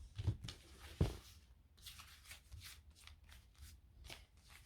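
Oracle cards being shuffled by hand, soft papery riffles and flicks in brief irregular bursts, close and quiet with two firmer taps near the start.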